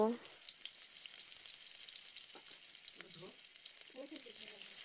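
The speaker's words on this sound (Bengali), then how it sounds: "তেলটা একটু গরম হয়ে গেলে এর মধ্যে একটি শুকনা মরিচ, পেঁয়াজ কুচি আর রসুন কুচি" Dried chili, chopped onion and garlic sizzle in hot oil with a constant bright hiss, close and steady throughout, with a few soft stirring scrapes underneath.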